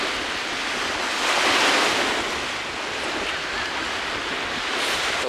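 Waves of the Baltic Sea wash onto the shore in cold weather, a continuous broad surf roar with gentle swells and some wind buffeting the microphone, close and loud.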